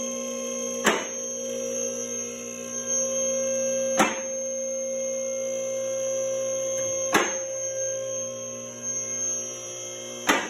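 Three sharp metallic clunks from a car lift's safety locks engaging land a few seconds apart over a constant electrical hum and whine, with no voices.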